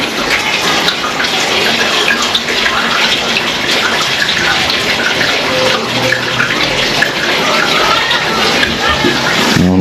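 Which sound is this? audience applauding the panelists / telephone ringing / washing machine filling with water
washing machine filling with water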